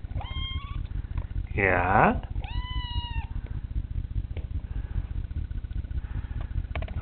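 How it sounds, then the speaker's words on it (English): Eight-week-old kitten meowing repeatedly indoors: a few short high meows, then one long, loud, drawn-out cry and another pair of meows, all close to the mic, with a brief spoken word and a steady low hum underneath. "she just meows nonstop"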